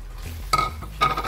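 Fried chicken being stirred into masala in a pot for a chicken malai handi, two sharp scraping clinks of a spoon against the metal a half second apart, close and clear, with no voices.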